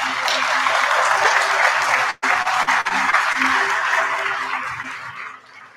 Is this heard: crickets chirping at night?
no